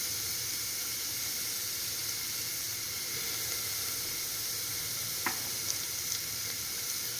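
Onion softened with ground ginger, garlic, coriander and green chilli paste sizzles steadily in a pan over a medium flame, a constant soft frying hiss with a faint stir clink, no talk.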